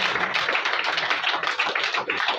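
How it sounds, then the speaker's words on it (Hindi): Dense applause from a crowd at a book launch fills the whole moment, steady and loud clapping with no voices breaking through. "एक बार रिदम के लिए जोरदार एक बार तालियां बजाएं"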